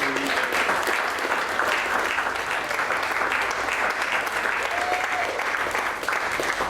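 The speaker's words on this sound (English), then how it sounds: "So let's give everybody up here a round of applause." A large audience at an economy-for-all forum in Vermont gives panelists of legislators, advocates and farmers sustained loud applause, a dense even roar of clapping lasting several seconds.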